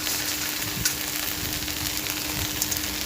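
Water spinach stir-fried with crushed lentil dumplings in a pan, giving a close, steady sizzle with soft scraping stirs.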